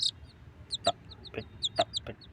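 Young chicks at dawn give high, thin peeping chirps mixed with a few soft clucks from a hen, several short calls scattered over a quiet background, fairly faint and with no talking.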